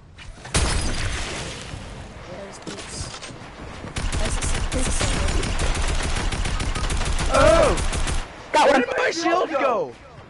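Rapid gunfire bursts from an online shooter video game, dense and loud through most of the stretch, with excited voices and laughter from players talking over the shooting.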